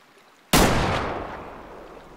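A single loud hunting-rifle shot in the video game Way of the Hunter, with a sharp crack that follows a quiet lead-in and rolls away in a long, fading echo.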